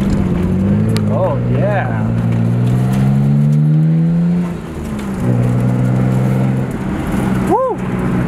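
Nissan Skyline GTR driven hard around a residential cul-de-sac circle, a loud engine rising and falling through the turn, then easing off and revving again, heard from inside the car with a man's brief exclamation.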